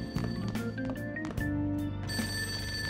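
A telephone rings downstairs in a house in the video game Persona 5, a repeated electronic bell over a steady game music backdrop, moderately loud and continuous.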